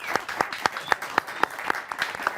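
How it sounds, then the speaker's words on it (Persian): Audience claps in a slow, steady unison rhythm, about ten crisp, evenly spaced claps close by with little else beneath. "دم دیگه تشویقشون کنید بچه‌ها"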